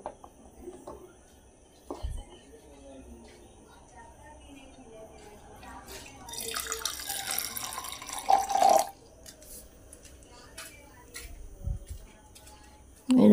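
Water pours into a container for a couple of seconds, a soft hissing splash in the middle of otherwise quiet handling sounds, with scattered knocks and a clunk at the end.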